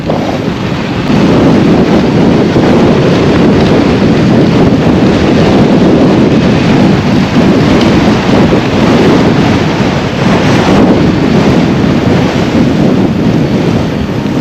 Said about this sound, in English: I'm nearly coming to a standstill in this wind.